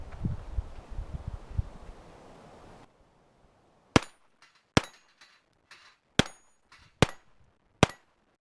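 Six .22 LR Aguila Super Maximum rounds fired from a Ruger SR22 pistol, sharp cracks spaced about a second apart, each with a brief tail, after an opening stretch of rustling handling noise.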